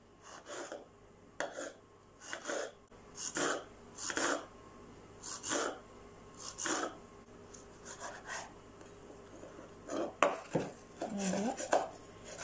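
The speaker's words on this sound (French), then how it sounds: "On va essayer de couper fin." A knife finely chopping tomato on a cutting board, steady rhythmic strokes about once a second, close and distinct, speeding into quicker clustered cuts near the end.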